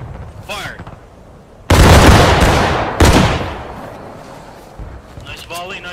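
Musket volley in a video game, two loud booming broadside blasts in close succession with long rolling decay, framed by a commanding voice calling orders before and after.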